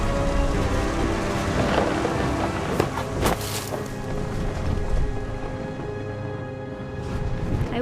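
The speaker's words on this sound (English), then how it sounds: "The thunder sounded much too close and full of angry power." In the game What Remains of Edith Finch, a storm brings steady, loud rain with deep rumbling thunder throughout and a sharper thunder crack midway, with no voices.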